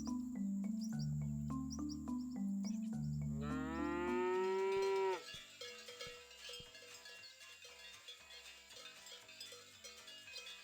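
Cow in the Scott Whiskers video game gives one long, loud, rising moo lasting about two seconds, set against a looping tune with cowbell-like tones that keeps playing after the moo ends.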